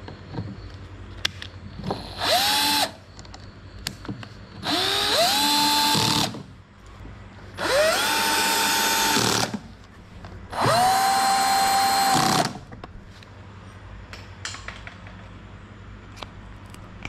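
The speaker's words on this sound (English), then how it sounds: "you put in this cover, followed by three screws." A power screwdriver drives three cover screws into an AC unit during a cooling coil replacement on a Mitsubishi Inspira or Lancer 08, four loud close whirring bursts that rise in pitch as each screw seats, with short pauses between.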